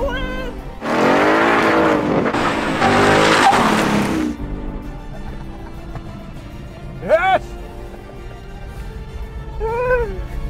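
A 2021 Ford Mustang Mach-E electric car surges hard in a short race launch against a base Mustang, giving a loud broadband rush with tire noise for several seconds, followed by quieter road sound as voices talk over it.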